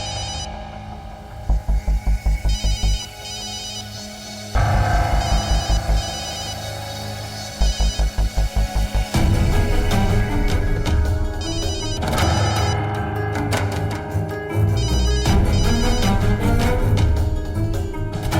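Telephone ringing repeatedly with no answer, a chain of short electronic ring bursts at a steady rhythm, fairly loud and close. Dramatic background music swells beneath the rings and carries on after them.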